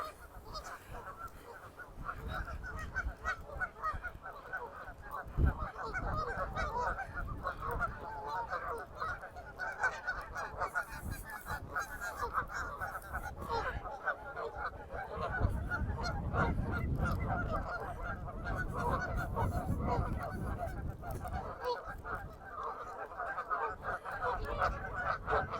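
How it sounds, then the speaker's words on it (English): A flock of geese at Wascana Lake honks continuously at middle distance, overlapping calls carrying over steady outdoor background noise for the whole stretch, with no talking. "And lots of noisy geese."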